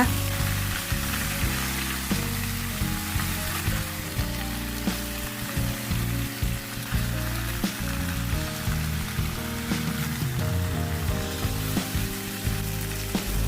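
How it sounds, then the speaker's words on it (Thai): Steady loud sizzling and crackling of Chinese kale stir-frying over maximum heat in a hot wok, with occasional scraping stirs, continuous throughout and no voices. "เปิดไฟให้แรงสุดเลยค่ะ แล้วก็พอกระทะร้อนก็ใส่ผักลงไปนะคะ"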